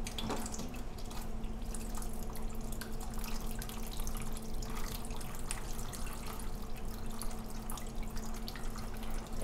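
Coolant drains from a Kawasaki KX125/KX250 dirt bike engine in a steady trickling, dripping flow, faint and continuous over a low hum, with no talking.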